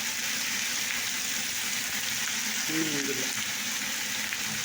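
Potatoes sizzle in a hot pan with a steady, close frying hiss that holds throughout, with brief speech heard partway through.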